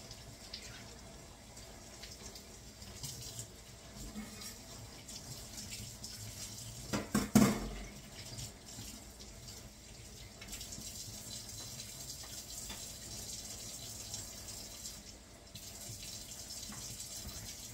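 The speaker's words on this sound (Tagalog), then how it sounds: "mamaya ko na po siya hugasan ko lang po siya muna" Tap water runs faintly and steadily while leafy vegetables are washed for a pork bone sour soup. A brief clatter sounds midway through, and no one talks.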